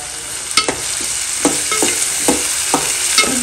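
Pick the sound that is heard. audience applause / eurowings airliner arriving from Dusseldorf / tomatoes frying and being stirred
tomatoes frying and being stirred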